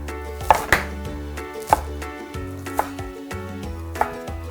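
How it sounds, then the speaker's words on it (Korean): Knife chopping wild chives (dallae) into bite-size pieces on a cutting board, with a handful of sharp, separate cuts spaced about a second apart over a low steady background. "먹기 좋은 크기로 잘라주세요."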